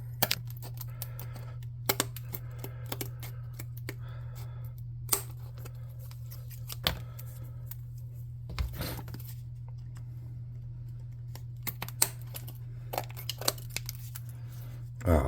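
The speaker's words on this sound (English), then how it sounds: "And we'll get our scissors." Quiet snips of scissors cutting paper, with irregular crisp cuts and handling noises over a steady low hum, no one speaking.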